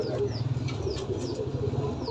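Pigeons flap their wings in a series of soft, quick fluttering bursts over a low background hum. The sound is close but modest in volume, with faint chirp-like squeaks mixed in.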